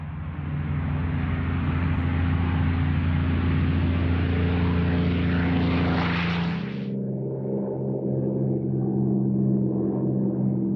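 Spitfire fighter's piston aero engine roaring in flight, a loud sustained drone that swells and rises in pitch, then drops sharply into a lower, steady hum as the aircraft passes.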